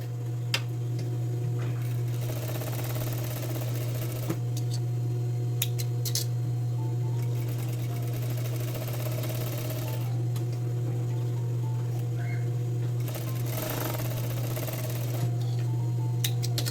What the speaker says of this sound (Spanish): Ahora paso otra costura debajo de esa y al margen del pie.